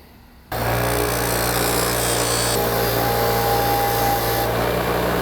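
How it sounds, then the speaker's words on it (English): A bench grinder starts abruptly and runs steadily while it cleans up the cut end of a parking brake cable, a loud, continuous whine with a faint high tone partway through. "I bet I clean up that end over there on my bench grinder"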